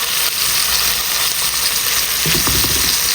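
Food frying in a covered pan to brown its other side, a loud continuous sizzle close by with a faint scraping stir near the end.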